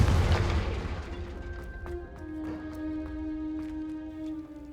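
A Confringo fire spell explodes in Hogwarts Legacy, opening with a loud booming blast that decays into a lingering rumble with steady tonal hums over the remaining seconds.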